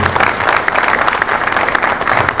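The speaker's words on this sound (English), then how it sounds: "Another round of applause for that courage and that determination." Loud, dense applause from a theater audience after a student production of Julius Caesar, a steady wash of many hands clapping with no break.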